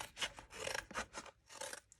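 Scissors snip through curled paper at a craft table in short, quiet rasping cuts, about half a dozen in quick succession, close and alone.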